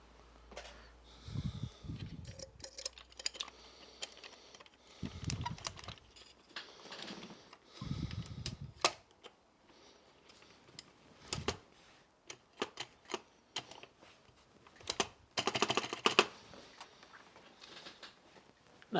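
Plastic clicks and taps come from fitting a spacebar keycap onto a Commodore PET keyboard, scattered close and faint with quiet pauses between bursts.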